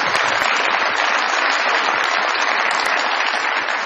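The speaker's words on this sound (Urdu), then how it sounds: "میرے دونوں مہمانوں کے لیے بہت ساری تالیاں جی" Steady, dense applause from a studio audience at a Pakistani comedy show, loud and sustained throughout with no voices over it.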